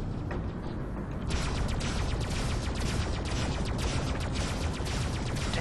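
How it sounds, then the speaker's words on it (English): Rapid spaceship weapon fire in the space combat game Freelancer, a dense continuous crackling barrage that gets louder after the first second and keeps going steadily throughout, with no talking. "Damn it, King, stop running in front of my gunfire."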